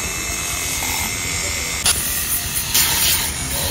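A power grinder works down the sides of a metal ACOG scope mount, giving off a loud, continuous hissing whine with a few brief surges in intensity.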